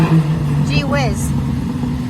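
A car drives past on a city street in the rain, with a steady loud engine drone holding through the stretch while people talk briefly over it.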